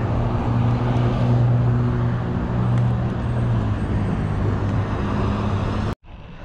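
Cars on a road roll past a cyclist in a steady, loud wash of traffic and tire noise with a low engine drone, continuing unbroken before cutting off abruptly near the end.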